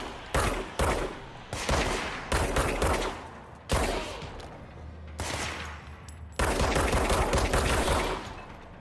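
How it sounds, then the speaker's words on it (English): Video game gunfire from Control: separate bursts of shots at a slow, deliberate pace, loud and punchy with short gaps between volleys and some background game ambience. "As I shoot slow, it'll regen as I'm firing."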